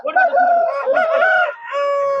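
A rooster at a busy South Indian poultry market gives one loud, close crow with a long drawn-out final note.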